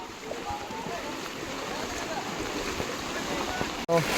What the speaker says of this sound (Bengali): নদীর জল রাস্তার মধ্যে দিয়ে বাইতেছে